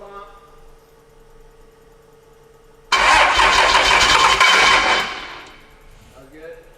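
A 1000hp Cummins diesel engine in a burnout truck cranks and fires, bursting into a loud, broadband roar after a quiet stretch, revving hard for about two seconds before dropping back to a lower rumble.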